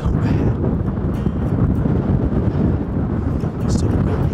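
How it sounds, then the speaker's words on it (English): Strong wind roars and buffets the microphone in open country during a solo hunt, a loud continuous rumble that never lets up for the whole stretch. "Wind's just howling so bad."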